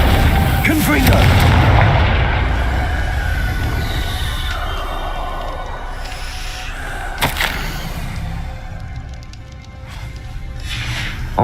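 Fiery Confringo spell blasts in the Hogwarts Legacy video game: a dense rumbling roar with a sharp burst near the start, a crack around seven seconds and a lingering low rumble, loud and close.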